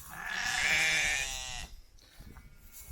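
Sheep on a smallholding giving one loud, wavering bleat at close range, followed by faint background rustling and quiet stray sounds.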